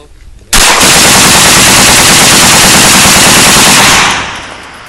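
Draco pistol bump-fired through a 30-round magazine: a sudden, very loud, continuous burst of rapid shots lasting about three and a half seconds, near and harsh, then cutting off into quieter background.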